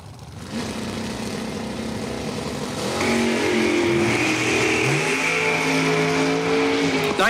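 A door truck and a dragster launch at Numidia Dragway, engines roaring loud and close, swelling sharply after a few seconds into a sustained, rising high-revving drone.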